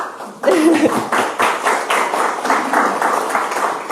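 Audience applause in a Spanish talk setting welcoming a guest, a broad steady wash of clapping filling the room, moderately loud and continuous from just after the start to the end.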